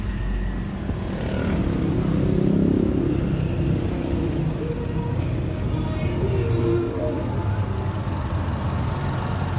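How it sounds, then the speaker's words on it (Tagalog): A motorcycle engine runs with a steady low rumble throughout, fairly loud and close, with no clear change in level. "huminto na yung motor"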